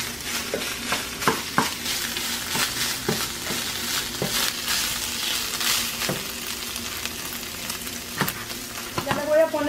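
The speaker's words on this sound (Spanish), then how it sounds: "Lo dejamos que se fría junto con la carne" Chorizo and stewed beef fry in a pan with a dense, continuous sizzle, punctuated by sharp clicks and scrapes of stirring, close and fairly loud.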